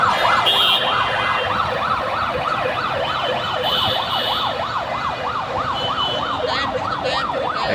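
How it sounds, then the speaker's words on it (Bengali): A fire service vehicle siren wails in a fast, regular rising-and-falling cycle, loud and continuous over road traffic rumble near a burning passenger bus. "আমাদের ফায়ার সার্ভিসের গাড়ি শোনা যাচ্ছে"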